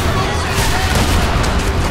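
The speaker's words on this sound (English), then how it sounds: "the shotgun is a little bit wonky" Shotgun blasts in the violent shooter game Hatred, loud and dense, with heavy gunfire and booming reports packed tightly together and filling the whole moment.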